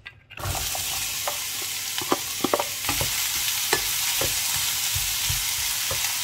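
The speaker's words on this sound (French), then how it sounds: "Je vais commencer par faire revenir l'ail et oignon ensemble." Garlic and onion sizzle in olive oil in a pan, a steady close frying hiss punctuated by scattered clicks and taps of stirring, with no talking.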